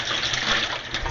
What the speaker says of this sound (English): Pour the water out